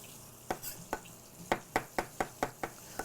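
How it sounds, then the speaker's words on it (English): Knife chopping onion on a cutting board in a home kitchen while preparing smothered pork chops, a series of sharp, close, evenly spaced chops with a few irregular strikes, no talking. "So I'm going to chop them up right here."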